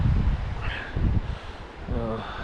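Outdoor breeze on an open upland walk beside a river, a steady broadband rush of wind buffeting the microphone, with people talking over it.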